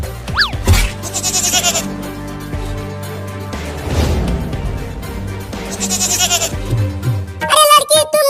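A cartoon goat bleats in a comedy scene, with sharp wavering cries opening the clip and returning near the end, amid music, effects and character talk.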